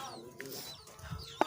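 Chicks clucking in a farm setting, giving a few short, close calls spread through a brief moment, with one sharper cluck standing out near the end.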